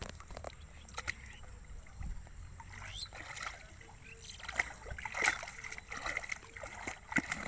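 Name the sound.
splashing in a small rainwater pond while searching for fish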